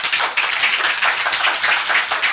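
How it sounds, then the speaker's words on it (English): Audience applause at a professional training session, dense continuous clapping from a roomful of people, steady and fairly loud throughout. "Give him a round of applause."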